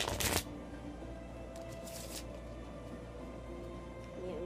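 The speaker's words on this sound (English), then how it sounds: "So now I'm gonna shuffle the deck" A deck of playing cards is shuffled in a quick riffle, a brief, close burst of fluttering card flicks at the start, followed by a softer rustle and steady background hiss.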